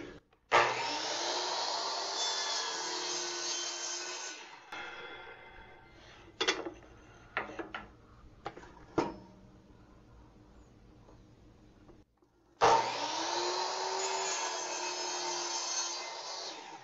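A saw cuts 3-inch wooden blanks for house numbers: a loud, steady whining cut, then a stretch of knocks and clatter as the wood is handled, then a second sustained cut, close by with no talking.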